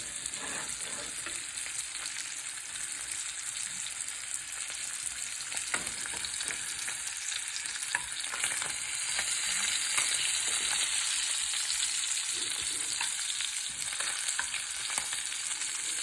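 A flounder fillet pan-frying in butter sizzles steadily and loudly close up, a bright continuous crackle with occasional spatter pops and faint stirring or basting movements.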